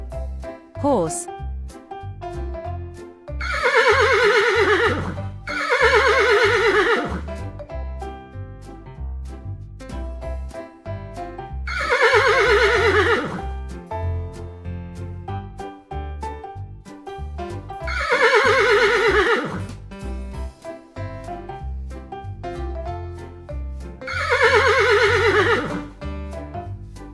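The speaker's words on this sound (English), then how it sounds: "Horse." A horse neighs in four loud, separate whinnies spread evenly through the clip, each a bright, shaking burst that rises and then falls. Soft clip-clop and light background sounds fill the gaps.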